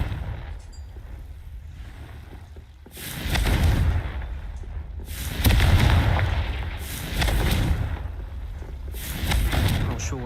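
Fiery spell blasts from the Confringo spell in the video game Hogwarts Legacy arrive as several loud, roaring whooshes over a low rumble, each swelling for a second or two after a quieter opening.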